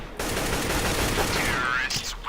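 AK-47 fire in the game CS:GO comes as a rapid, continuous burst of automatic shots lasting about two seconds, with game sounds mixed in.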